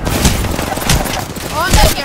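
Gunfire in the video game Apex Legends: a quick, dense volley of overlapping shots in a short burst, with a voice mixed in.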